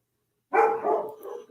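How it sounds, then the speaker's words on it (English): Dogs bark in an agitated burst of several overlapping barks and yips at close range, set off by a tornado siren, with no talking. "My dogs are freaking out."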